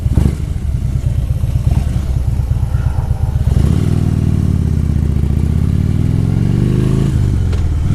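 A motorcycle rides along loud and close, a rough clattering idle giving way to a steady revving drone that climbs in pitch, then drops briefly near the end, with no talk over it.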